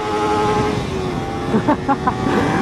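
A Kawasaki Ninja 300 motorcycle engine revved hard toward redline, a loud, near, buzzing whine holding a steady high pitch, with a few short bursts near the end as the throttle blips.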